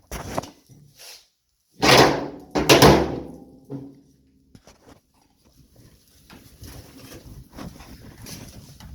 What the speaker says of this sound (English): but you can see, you open the door